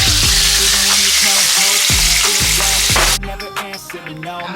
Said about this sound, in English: I'm adding a little bit of olive oil plus the oil that I use it to fry my fish